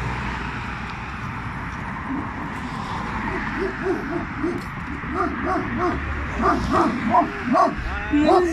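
Dogs in a house bark repeatedly at night during a walk, a series of rhythmic, moderately distant barks and yips that grow louder toward the end over steady outdoor background noise.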